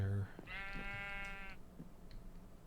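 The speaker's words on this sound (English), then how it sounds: "Bad sheep." A sheep in the Minecraft video game gives one clear, wavering bleat lasting about a second, fairly quiet, followed by faint background shuffling.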